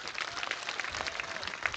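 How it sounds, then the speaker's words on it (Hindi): A crowd claps at a political speech by Sachin Pilot to the Gurjar community, a steady, fairly distant wash of applause with no single claps standing out, and no talk heard. "जोरदार तालियां, जोरदार तालियां"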